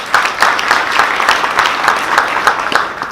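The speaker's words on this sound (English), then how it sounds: "Please put your hands together." A conference audience applauds after a speaker is introduced, dense steady clapping from many hands filling the room at close range.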